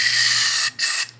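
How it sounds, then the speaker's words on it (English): Brake cleaner sprays in a loud, steady aerosol hiss through a snow blower carburetor, broken by one short pause before a second burst, close up with no talking. "Run some brake cleaner through them."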